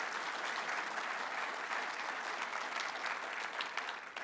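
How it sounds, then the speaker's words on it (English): An audience at a talk breaks into steady applause, a dense wash of many hands clapping that holds evenly throughout and tapers slightly at the end. "That deserves applause."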